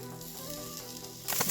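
Ginger garlic paste sizzling with onions in a pan, a steady close hiss that jumps to a louder crackling burst near the end, with no talk.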